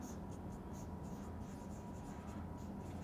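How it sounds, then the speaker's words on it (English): A pen scratches across paper as data for a centrifugal compressor problem is written down by hand, a faint continuous scribble over steady background hiss. "let's start by writing down the data given to us"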